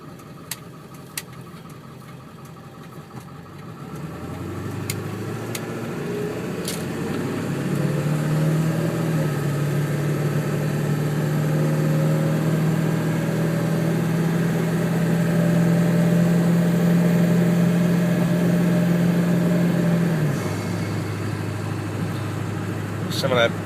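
A 2001 Ford F250 with a 7.3 Powerstroke diesel and an S&B cold air intake starts moving after a quiet moment, its engine drone rising and holding steady as the truck pulls out onto the road, then dropping near the end.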